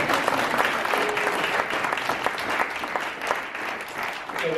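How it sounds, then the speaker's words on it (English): A crowd applauds at an engineering prototyping competition, with continuous, fairly even clapping from many hands that fills the whole stretch at moderate loudness, without any clear pause. "Let's have a applause for you."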